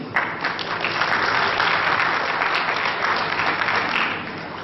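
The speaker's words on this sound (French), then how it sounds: "Grand applaudissement pour Monsieur Tessine." Sustained applause from an audience at a petanque masters trophy ceremony in Madagascar, many hands clapping in a dense, even roar, fairly loud and continuous for several seconds.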